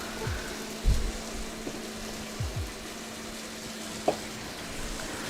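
Marinated Kung Pao chicken frying in a wok, a steady low sizzle with a few soft knocks and scrapes of stirring, no voices.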